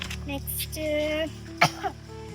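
A single sharp cough, followed a moment later by a softer second burst, over a steady background hum of tones.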